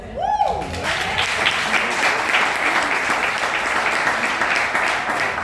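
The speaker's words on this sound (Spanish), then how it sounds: "Un aplauso al Señor, hermano." A church congregation breaks into sustained applause, a thick, steady roar of clapping hands, opened by a brief swooping voice at the very start before the clapping settles in evenly.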